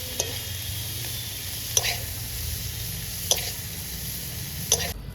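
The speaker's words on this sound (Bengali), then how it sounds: "সুন্দর লাল লাল হয়ে গেছে চিংড়ি মাছের ভাজা।" Prawns frying in a pan make a soft, steady sizzle, broken three or four times by brief clinks of a spatula stirring against the metal.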